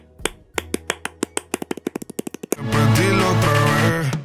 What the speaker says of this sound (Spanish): las palmas que empiezan en una figura rítmica y se empieza a subdividir